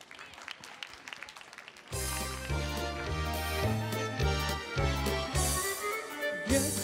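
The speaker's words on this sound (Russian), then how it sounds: "Аплодисменты" Audience applause at a karaoke battle show, starting abruptly and holding as a dense, steady clapping crowd that mixes with a music intro beginning underneath.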